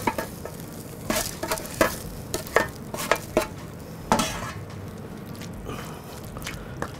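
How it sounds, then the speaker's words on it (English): Roasted butternut squash is stirred into risotto rice in a hot pan, repeated spoon scrapes and taps over a soft sizzle, close and rhythmic. "I'm gonna combine the butternut squash with the rice, continue cooking, and then add the Parmesan cheese."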